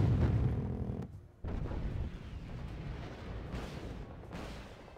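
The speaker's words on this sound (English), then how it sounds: "122mm rocket." 122mm rockets firing in the Wargame Red Dragon video game: a heavy, rumbling launch blast with a brief dropout, then a sustained booming roar and further bursts of rocket fire fading and swelling.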